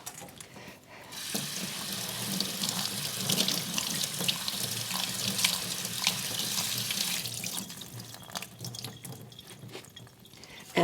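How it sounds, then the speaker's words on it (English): Canned black beans are rinsed in a strainer under a running kitchen tap, making a steady rush of water for several seconds with light rattling and dripping, then tapering off. "So I'm going to put them in this strainer. And we're going to quickly rinse them."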